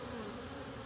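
Busy honey bees swarm around a hive, a close, steady buzzing drone.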